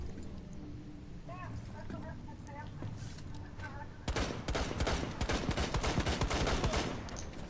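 Rapid automatic gunfire in the tactical shooter Rainbow Six Siege, bursting in suddenly midway and continuing as dense, crackling volleys, preceded by quieter game sounds and faint chatter.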